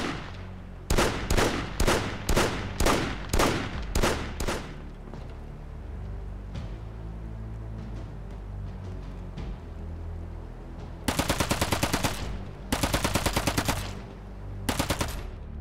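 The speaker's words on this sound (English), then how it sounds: "Shooting full auto will really throw your weapon off." Full-auto weapon fire from the WW2 zombie co-op game Projekt Z, loud repeated bursts of rapid shots with brief pauses between, then longer sustained bursts near the end, with no talk.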